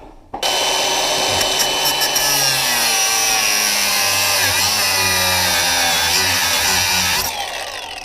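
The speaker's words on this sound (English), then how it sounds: "Grinder out again." An angle grinder cuts through metal parts on a BMW donor car, a loud continuous high whine with gritty rasping that runs for about seven seconds before dropping away.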